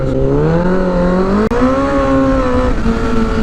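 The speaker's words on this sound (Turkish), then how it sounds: "Baba motor çıldırıyor la." A motorcycle engine revs hard and climbs in pitch, a loud, close, steady roar with a brief break midway before it settles back to a high drone.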